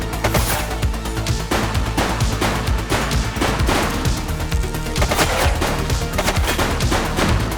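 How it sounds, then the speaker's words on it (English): Dense rapid gunfire in the police game The Precinct, a loud continuous barrage of overlapping shots and bursts with no pauses, sounding like several weapons firing at once at close range throughout. "Shots fired!"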